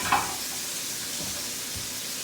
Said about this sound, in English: we need to get a sear on both sides of this steak, so we're going to cook it